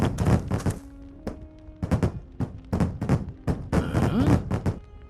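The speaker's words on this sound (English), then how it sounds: "Sounds like explosions in the stove." A rapid series of sharp thuds and pops from explosions inside a stove in the video game The Book of Unwritten Tales, irregularly spaced and fairly close, with a faint tonal hum underneath.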